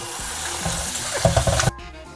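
Tap water runs steadily over lettuce being rinsed in a sink, a dense rushing splash that grows busier with irregular spatters before cutting off abruptly near the end.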